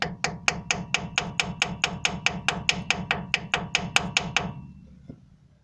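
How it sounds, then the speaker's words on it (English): A hammer strikes a stuck axle differential cap on a Gen3 Suzuki Jimny about twenty times in a quick, even rhythm, each blow sharp and ringing, then the hits stop and the sound fades. "So what we'll look to do is knock it off with a hammer."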